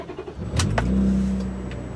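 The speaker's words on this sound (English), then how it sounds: "as you see, starts up no problem." A 2004 Honda Odyssey minivan engine, already warmed up, cranks briefly and catches, settling into a steady low idle rumble heard from inside, with no one speaking.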